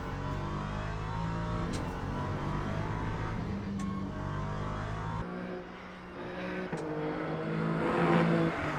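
A hypercar engine on a push lap in the racing game Le Mans Ultimate drones and revs steadily, with brief shifts and pitch changes as it accelerates, continuous and moderately loud with no talking.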